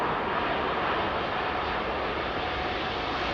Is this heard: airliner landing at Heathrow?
yes